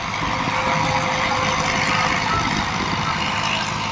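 A Massey Ferguson 240 tractor pulls a nine-tine planter through a dusty field, its diesel engine labouring in a loud, steady, dense rumble close by, with no talk.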